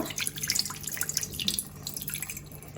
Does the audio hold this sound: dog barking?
no